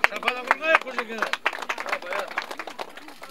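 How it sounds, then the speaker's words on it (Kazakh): Guests at a Kazakh family celebration clap in a scattered burst of applause, with a speaking voice running loudly over the claps. "Шапалақ ұрғай қожекені."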